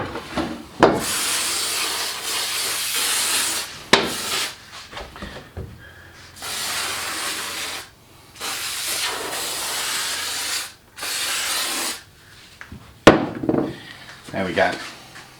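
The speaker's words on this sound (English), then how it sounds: "I'm going to give all of it a really good spray, getting both sides" Aerosol spraying onto a Caterham Seven windscreen frame, several loud hissing bursts of a few seconds each separated by short pauses, close to the listener.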